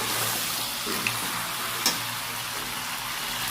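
Mutton kosha being sautéed and stirred in a pan for a birthday meal, giving a steady low sizzle with a couple of faint scraping knocks, no talk.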